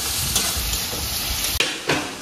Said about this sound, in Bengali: এখানে শুকনো লঙ্কা ভেজে নিচ্ছি